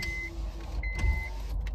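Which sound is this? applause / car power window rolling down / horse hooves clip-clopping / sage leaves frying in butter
car power window rolling down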